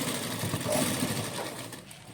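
A sewing machine stitches lace onto a dupatta, its motor whirring in a continuous close hum that swells slightly midway and eases toward the end, with no talking.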